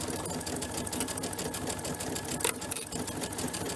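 A domestic sewing machine runs steadily while stitching a 3/8-inch seam on a quilted paisley belt bag, its rapid needle rhythm continuous and close with no voices.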